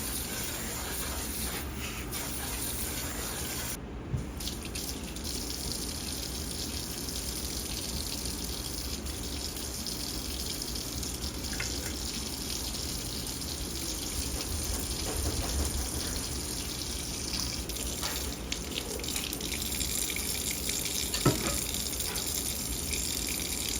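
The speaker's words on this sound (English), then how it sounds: "So for the shrimp, I have it here in a colander. I want to give it a good rinse" Shrimp being rinsed in a colander under a running kitchen tap, a steady unbroken gush of water spattering continuously, close and fairly loud, with brief faint handling sounds and no talk.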